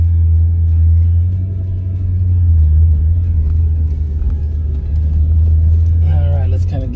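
A 2005 Maserati GranSport with its 4.2-liter Ferrari V8 rumbles deep and steady in first gear, a low throaty drone that swells slightly as it pulls away, with a brief higher noise near the end.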